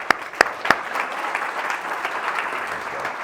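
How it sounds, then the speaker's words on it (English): Applause from a small audience at a gym owners' gathering, opening with a few sharp individual claps and then settling into steady, moderate clapping for a few seconds, with faint voices mixed in. "Okay, round of applause, you guys."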